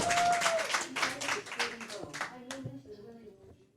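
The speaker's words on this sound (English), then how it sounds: "Y'all clap." A small group claps in a Praise 102.5 radio studio, a dense burst of hand claps that thins out and fades within a few seconds, close and dry.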